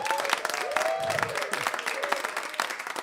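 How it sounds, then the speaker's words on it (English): Audience applause for the Anchorage Folk Festival at a Bill Staines tribute concert, a dense, steady wash of many hands clapping with a few cheers and whistles rising over it for several seconds. "Let's give a big round of applause to Anchorage Folk Festival for making this happen."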